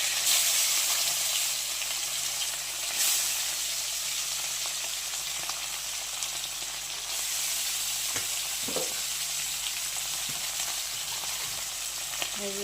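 Fish rubbed with salt and turmeric sizzles steadily in hot oil, a continuous bright crackle holding through the clip, with a few faint clinks and no voices.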